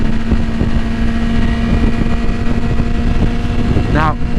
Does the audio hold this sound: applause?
no